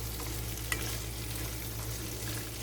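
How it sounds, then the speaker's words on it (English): Food being stirred and sautéed in a pan for a Mediterranean low-carb meal, a steady close sizzle with scraping stir noises and one sharp clink near the start, no voices. "I'm just going to mix all this up and saute it together just until I get a nice, dark, beautiful color."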